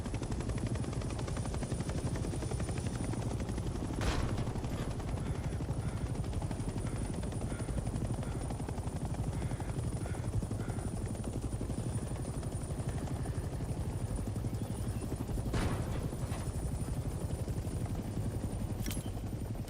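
Helicopter hovering and descending to land in the Vietnam-era war game Hell Let Loose Vietnam, a constant loud rotor and engine roar with a few sharp distant cracks layered on top, no speech.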